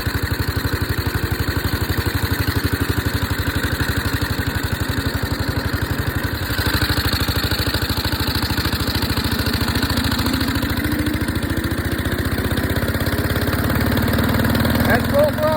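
A stock Husqvarna engine fitted with a PZ19 carburetor runs hard and steady at full throttle, a loud continuous buzzing drone with a rapid pulsing rhythm and slight shifts in pitch.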